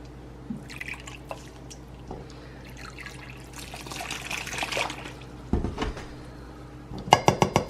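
Water poured into a turkey brine mix of salt, garlic, pepper and oregano, a soft trickling and splashing that builds through the middle, followed by a quick run of sharp clinks near the end.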